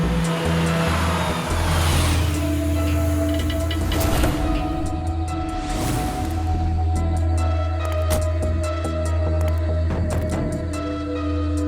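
A car driving along a road at night, a steady loud engine drone and road rumble with passing swells, continuous and without speech.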